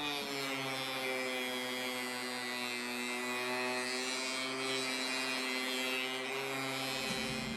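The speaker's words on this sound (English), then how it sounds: "take this over to my drum that I've got inside my router" Sanding drum chucked in a router smoothing a wooden bevel gauge part, a steady close high-pitched motor whine with a constant buzzing drone throughout.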